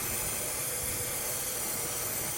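A brazing torch hisses steadily on a compressor connection during HVAC work, a continuous, fairly loud broadband rush with no breaks.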